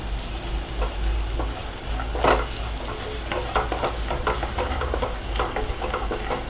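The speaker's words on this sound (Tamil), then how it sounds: "ஒரு ஓரமாக வச்சுட்டு தேங்காயும் நல்லா ஃப்ரை பண்ணிக்கோங்க" Coconut pieces fry in a pan for a payasam, giving a steady broadband sizzle with scattered crackles and a few louder spatters as the pieces are stirred, close and continuous throughout.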